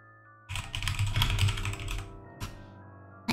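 Typing on a computer keyboard, a quick burst of close, clicky keystrokes over a steady low hum, then a pause and a few last isolated taps.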